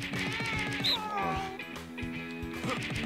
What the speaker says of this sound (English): Come on, stretch that cat